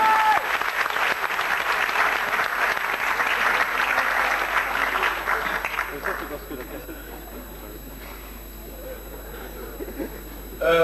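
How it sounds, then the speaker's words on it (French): An audience at a youth media show applauds, a dense burst of clapping for about six seconds that tapers off into quieter room noise, with a voice briefly audible near the end. "on peut aussi applaudir tous les autres"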